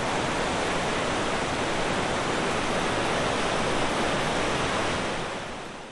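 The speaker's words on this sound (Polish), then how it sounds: "W mieście Jesionik ulice zamieniły się w rwącą rzekę" Floodwater rushes through the streets of Jesionik as a loud, continuous roar of torrential water that holds steady and broad without a break, then eases slightly at the end.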